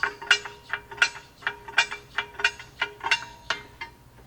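Rapid ratcheting clicks from a car's parking brake adjuster being turned, set in a rebuild of a neglected Japanese sports car; about a dozen crisp, close metallic bursts arrive in an irregular rhythm with no talking.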